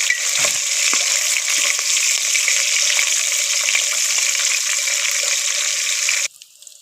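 Green chillies sizzling loudly in hot oil in a pan for a dhaba-style sev tameta shaak, a dense steady hiss with a few scraping stirs early on, cutting off abruptly near the end.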